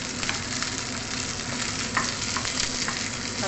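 Onion and garlic sautéing in a pan for chicken with broccoli: a steady, close sizzle with light stirring scrapes running throughout, without talk.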